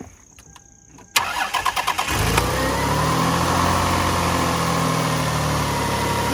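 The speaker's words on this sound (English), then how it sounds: "we got our alternator installed, and now we're ready for the first start. Go ahead and fire away." A project car engine starting after a new alternator install: starter cranks in quick rhythmic bursts, then the engine catches and settles into a loud, steady close idle.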